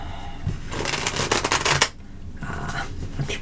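A deck of tarot cards riffled close up in a rapid, loud flurry of clicking card edges lasting about a second, then stopping abruptly, with a few soft taps and handling noises afterward.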